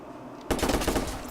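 Quiet room tone gives way to a sudden burst of rapid gunfire from the video game Watch Dogs, several close, loud shots firing in quick succession.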